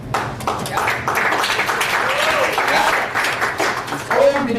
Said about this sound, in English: the last round of applause is going to be to you